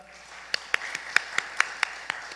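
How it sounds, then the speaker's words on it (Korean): A handful of separate hand claps ring out one after another at an uneven pace in a church during a Sunday worship service. The claps sound sparse rather than like a full burst of congregational applause. "우리 인사할 때 함께 격려와 또 축복의 박수 함께 해주기 바랍니다."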